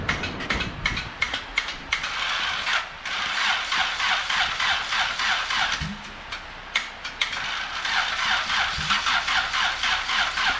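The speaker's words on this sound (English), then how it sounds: "Alright, gonna go ahead and get another start" A turbocharged Honda D16 engine in a Vitara EF hatch cranks repeatedly with a rapid, ratcheting starter chatter, catching in short bursts and stumbling between attempts, loud and close throughout.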